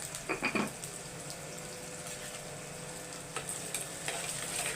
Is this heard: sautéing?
yes